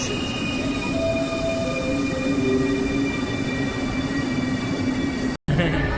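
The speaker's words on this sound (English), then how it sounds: "this unbelievably modern metro that was built by the Spanish" A modern metro train runs through Quito, Ecuador, with a steady rolling rumble, drawn-out wheel squeal and whining tones from the carriage, close and continuous under faint voices, cut by a brief dropout near the end.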